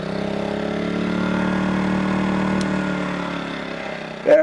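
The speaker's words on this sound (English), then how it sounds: "Very quiet little generator." A small, quiet portable generator runs with a steady, even mid-pitched hum close by, easing slightly near the end before a short louder clunk.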